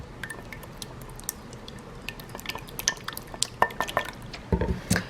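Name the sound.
whisking an egg in a bowl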